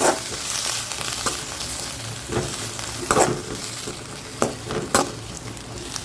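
Fresh coriander leaves stirred through a hot pan with the stove just switched off, giving a steady soft sizzle with scattered scraping knocks and brief louder clatters of the spoon, no talking.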